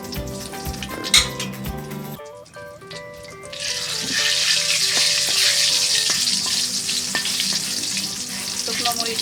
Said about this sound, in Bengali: শুকনো মরিচটা আমি কালো করে ভেজে নেব।